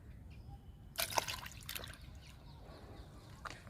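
Homemade liquid fertilizer splashes briefly onto a fig plant, a short, faint pour and trickle followed by a few soft drips in a quiet setting.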